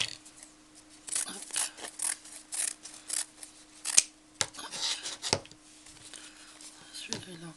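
Scissors snipping through material while small hats are made, repeated crisp cuts and rasping strokes in irregular bursts, close and fairly loud, with a steady faint hum underneath.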